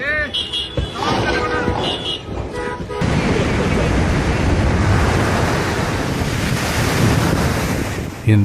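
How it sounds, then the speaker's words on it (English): Powerful ocean waves crash against the Paseo Nuevo seawall in San Sebastian, a loud, continuous roar of surf with heavy wind buffeting the microphone and a voice speaking over the opening seconds. "In San Sebastian, powerful waves turned the Paseo Nuevo seawall into a stage of pure natural force."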